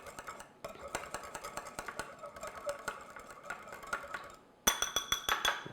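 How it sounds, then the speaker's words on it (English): A wire whisk beats egg with water in a bowl, giving quick repeated clinking taps against the bowl, fairly faint at first, then a brief gap and a louder, sharper run of strokes. "just beat this up. I'm using a wire whisk."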